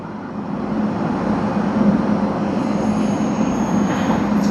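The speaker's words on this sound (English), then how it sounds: "we have the Boeing 787-9 Dreamliner that is making its way" A Boeing 787-9 Dreamliner moving at Tokyo Haneda Airport, bound for Vancouver, gives a steady broadband engine rumble with a low hum, heard from a distance and holding fairly constant throughout.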